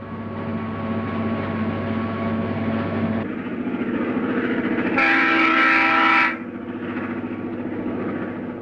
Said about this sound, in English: it's back to business as Father Christmas and the tea and sugar train move on to the next township